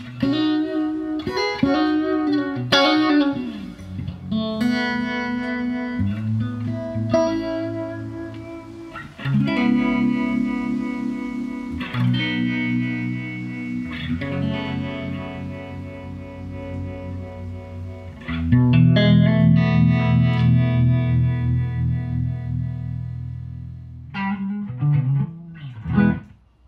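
A distorted electric guitar plays chords and single-note phrases through a vintage amp's brass channel with a warm, crunchy tone, loud and continuous, with some reverb.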